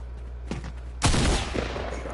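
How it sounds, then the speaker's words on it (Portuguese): Gunfire in Fortnite: a faint shot, then a loud burst of rapid shots with a rumbling low thud, continuing as a noisy crackling spray over a steady low game hum. "Olha lá, tá te atirando."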